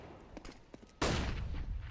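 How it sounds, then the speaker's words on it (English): An AK rifle fires in CS:GO during a competitive esports match on the Train map, one loud close burst striking after a second of quieter game sounds and ringing out to the end. "Shot in the face with the AK"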